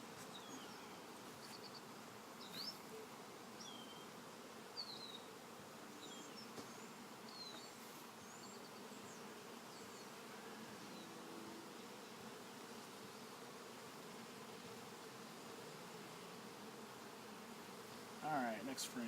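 Honey bees buzz steadily around an open hive during a beehive inspection, a continuous close swarm drone lasting throughout, with a brief louder rustle near the end.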